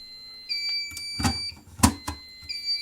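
A fire alarm control panel sounds its trouble signal during a system test: thin electronic beep tones start and stop, broken by a few sharp clicks and knocks from the panel.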